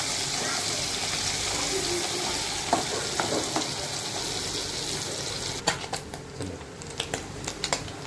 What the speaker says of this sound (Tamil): நல்லா டீப் ஃப்ரை ஆகிடுச்சு